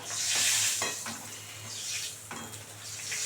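Cauliflower frying in hot oil for a cauliflower rasa, a steady sizzle with occasional stirring and utensil scrapes against the pan, close and moderately loud, with no one talking.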